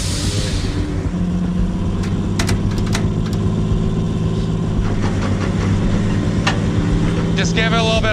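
A logging yarder engine runs with a steady, deep, loud drone throughout, with intermittent metallic clanks and rattles over the rumble and brief voices mixed in.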